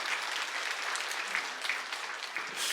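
A church congregation applauds uniformed members and their families in a steady, dense wash of clapping that fills the whole moment.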